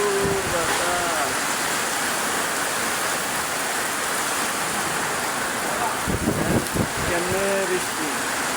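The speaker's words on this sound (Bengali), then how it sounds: "দেখেন কি বৃষ্টি, প্রচুর বাতাস, প্রচুর বাতাস ঢাকা" Heavy rain and strong wind in Dhaka roar as a steady broadband wash, with brief gusty bursts and a voice talking over the storm at moments.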